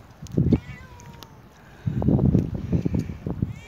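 A cat meows outdoors on a rocky shore during a fishing outing. One short meow comes first, then a longer run of meowing cries follows, with light wind noise in the background.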